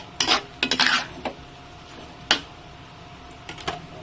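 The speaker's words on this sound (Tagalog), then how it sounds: "Mix lang po." Spoon scraping and clinking in a pot while stirring ginataang langka, jackfruit cooked in coconut milk: a few short metallic scrapes and taps, close by, with quiet gaps between them and no talking.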